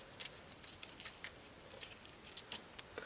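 A small paper origami star is carefully unwrapped by hand, giving light crinkling and crisp paper snaps in irregular bursts, close and quiet with no talking.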